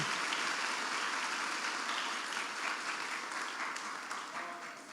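Church congregation applauding during a worship service, a steady dense wash of many hands clapping together that carries on throughout and fades slightly toward the end.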